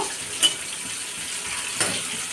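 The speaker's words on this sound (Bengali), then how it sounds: "এদিকে কাতলা মাছটা ভাজা বসিয়ে দিয়েছি" Catla fish sizzling in a pan, a continuous hiss of frying oil with a couple of soft clicks from a utensil.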